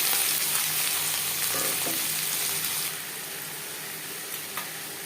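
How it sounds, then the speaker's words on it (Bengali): Chopped onion, tomato and garlic frying in three spoons of refined oil for chicken ghugni, a loud dense crackling sizzle that softens partway through, with a few brief stirring knocks, close up and without voices. "টমেটো, রসুন ও পেঁয়াজ ভেজে নেওয়ার পর দিয়ে দেবো আদা বাটা, কাঁচা পাকা লঙ্কা বাটা।"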